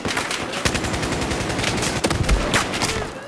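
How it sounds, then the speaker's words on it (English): Rapid automatic gunfire in Battlefield 4 multiplayer, dense overlapping bursts of loud shots crackling continuously with sharp cracks and low booms, no talking. "Why is my gun single fire? I hate that."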